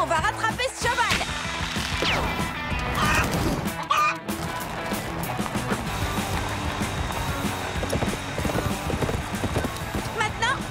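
Horse hooves clatter in a fast galloping rhythm under loud music and busy action sounds in an animated cartoon, with French voices mixed in.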